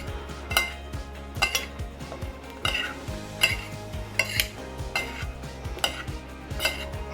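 Quinoa salad gets tossed in a bowl with a utensil, a steady rhythm of close clinks and scrapes repeating roughly every second against the bowl, with no talking.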